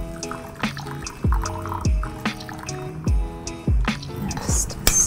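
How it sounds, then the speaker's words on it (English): Chicken stock going into a pot of rice with aromatics, heard as a series of wet drips, splashes and pouring sounds in uneven bursts, fairly close. "and some chicken stock."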